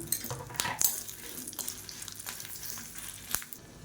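Dried red chillies fry in oil in a kadai, a soft, fairly quiet sizzle broken by a few sharp clinks and scrapes of a spoon against the pan.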